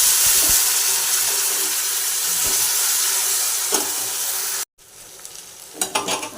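Onion, potato and tomato dropped into hot oil with whole garam masala and cumin seeds, giving a loud, close, continuous sizzle and hiss, then a brief cut and quieter frying with scraping stirs.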